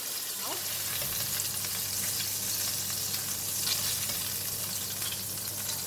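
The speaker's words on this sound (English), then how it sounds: "we're going to fry the prawns until it's cooked" Continuous loud sizzling of prawns frying in a hot pan, with occasional stirring scrapes and no talking.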